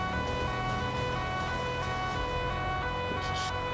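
A police car siren sounds in FiveM, a GTA-based police roleplay game. The siren holds a steady, fairly loud electronic wail with a constant, even level over an engine hum, with no talk.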